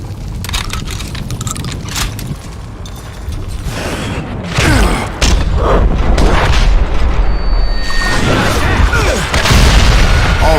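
A dynamite explosion in the western shooter Call of Juarez Gunslinger: a heavy boom hits midway, then a loud rumbling, crackling roar of debris and fire carries on to the end, with creaks and mechanical clatter before it.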